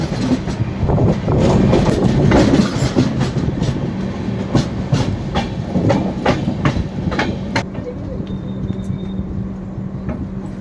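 The Puri Howrah Super Fast Express rolls along loudly and close, its wheels beating a regular clickety-clack over rail joints above a constant low rumble, with a brief faint high whine near the end.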